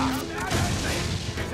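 Ship cannons fire in the pirate video game Assassin's Creed 4: Black Flag, dense rumbling booms packed under game voices shouting throughout.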